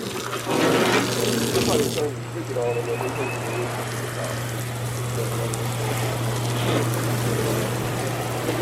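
Steady rushing spray of water runs continuously from start to finish, fairly close, with muffled voices and movement mixed in.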